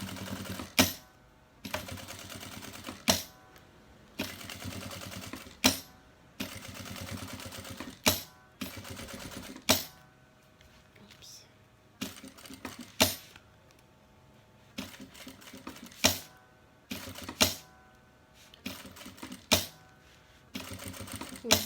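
A sewing machine stitches around a zipper on synthetic fabric for a vaccine-card cover, running in steady repeated bursts with short pauses and sharp clicks between runs, close and fairly quiet.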